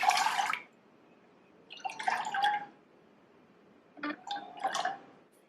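Water poured into a saucepan, about two and a half cups, for homemade soup in a kitchen: three short splashing, trickling bursts separated by pauses, close and moderately loud, with no talking.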